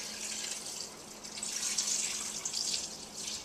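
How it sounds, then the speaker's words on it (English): A gallon of water poured all at once into a pot for homemade vegetable broth, a steady hissing splash that swells and sustains for a few seconds with no talking. "I'm going to add a gallon of water. Just pour it all in at once."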